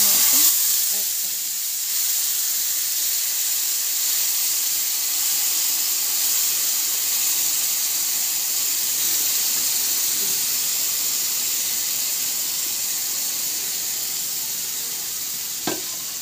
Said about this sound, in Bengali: ফোড়ন দেওয়ার পর আমি যে মাংস ম্যারিনেট করে রেখেছিলাম সেটা এর মধ্যে অ্যাড করব।